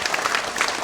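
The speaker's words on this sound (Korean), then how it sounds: "우리 이쪽에 박수로 한번 격려하겠습니다" A church congregation at a Friday worship service claps in a brief, even burst of applause, mid-distance and steady with no talk over it.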